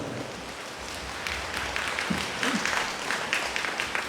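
A church congregation claps, the sound building from a faint patter into a moderate, steady stretch of many hands.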